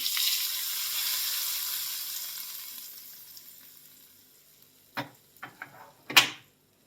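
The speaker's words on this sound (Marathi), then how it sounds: "आता ही फोडणी आपण या चटणीवरती द्यायची." Hot tempering of mustard seeds, cumin, asafoetida and curry leaves sizzling as it is poured onto raw mango chutney, a bright hiss that slowly fades away, followed by a few soft clinks and a short rustle near the end.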